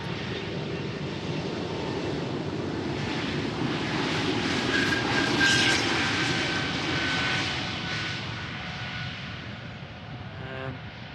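An Air Baltic Airbus A220 in a special livery departs runway 36L at Amsterdam Schiphol, its jet engines producing a loud, steady broadband roar that swells around the middle of the pass and then slowly fades, with no voices.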